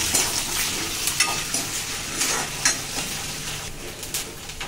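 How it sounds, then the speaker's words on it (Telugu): Cumin, green chilies, peanuts, chana dal, urad dal and curry leaves being stirred and fried in oil for pulihora, with repeated scraping stir strokes over a crisp, close sizzle and no talking. "జీలకర్ర, పచ్చిమిరపకాయ ముక్కలు, పల్లీలు, శనగపప్పు, కరివేపాకు, మినపప్పు ఇవన్నీ వేసుకుని మంచిగా ఇలా కలుపుకొని వేయించాలి"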